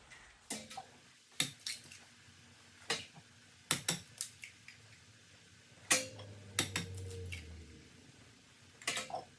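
Cooked ground beef mixture for Southwestern breakfast enchiladas gets a final toss in a pan, giving a series of sharp scraping clinks and knocks spaced a few seconds apart over a faint sizzle, with no talking.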